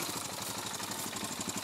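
An off-road motorcycle at a beginners' riding lesson idles with a steady, rough, pulsing engine rumble that runs continuously and fairly near, with no voices.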